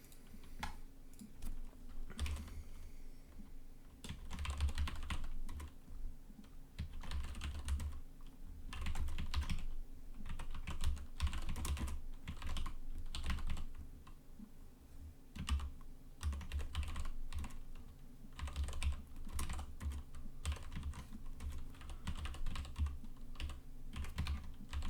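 Rapid typing rattles on a computer keyboard in quick bursts of clicky keystrokes, with short pauses between runs, close and fairly quiet, with no talking.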